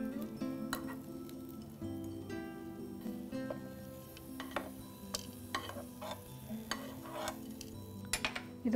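Shallots are sautéed in a pan, with a low steady sizzle under scattered scraping stirs and sharp clinks of a utensil against the pan.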